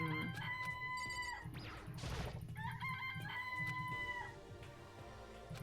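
Chickens cluck and a rooster crows in the video game Danganronpa, loud and busy over a constant layer of background music, with a noisy burst in the middle.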